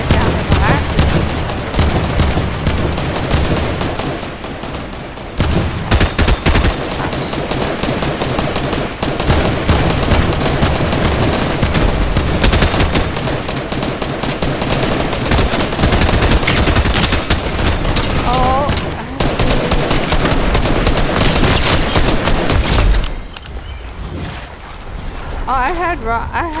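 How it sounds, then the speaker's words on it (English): Rocket launcher blasts and heavy gunfire from a Fortnite match, packed into a loud, continuous barrage of explosions and shots that barely lets up over background game noise. "Oh, I had rockets launched at me."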